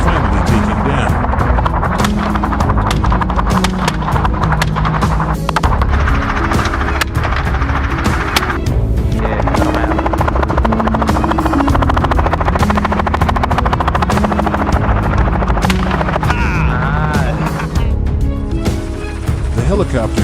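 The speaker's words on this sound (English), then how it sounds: "The helicopter kept circling," Helicopter circling low over fields during a wild boar hunt, a loud continuous rotor thrum with rhythmic chopping that dominates throughout, with sharp transient cracks scattered over it.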